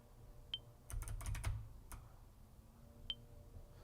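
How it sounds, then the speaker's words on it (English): Keys on a mechanical keyboard click in a quick cluster of several presses, with a few isolated taps before and after, faint and close in a quiet room. "you buy the mechanical keyboard,"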